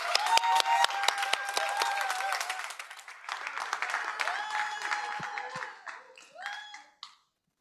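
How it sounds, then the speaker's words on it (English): Audience at the AgX Fair finals applauding presenters, a close, bright burst of many hands clapping that tapers off and stops abruptly, with a few voices underneath. "Give them a big round of applause"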